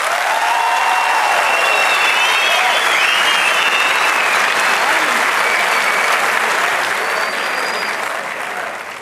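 Sustained audience applause fills a Turkish television talent show studio, loud and dense throughout, with a few cheers or whistles rising above it before it begins to fade near the end.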